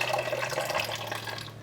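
Warm tap water runs and splashes steadily while being poured for an einkorn sourdough starter mix, a close, continuous trickling that lasts throughout.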